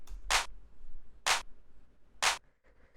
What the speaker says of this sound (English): It's just more about the type of clap, sort of like this drum machine style